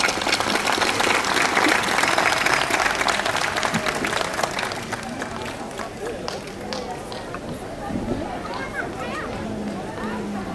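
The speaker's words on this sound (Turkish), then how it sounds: "Alkışlarınızla lütfen." Crowd applause at the Uzunyayla Circassian culture festival as a guest is called to the stage, loud and dense at first, then thinning into scattered claps with crowd chatter and a voice underneath.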